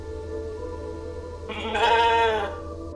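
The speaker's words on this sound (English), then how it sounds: "It's a sheep." A sheep in the video game The Alters lets out a single loud, wavering bleat lasting about a second, heard alone over a low steady background drone.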